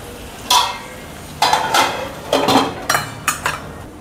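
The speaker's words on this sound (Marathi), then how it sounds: "आता मी 2 ते 3 मिनिटं मी असं झाकून ठेवते" A pan of ridge gourd thecha being covered with its lid, a run of five or six close metallic clanks and rattles in uneven succession as the lid is set and settles on the rim.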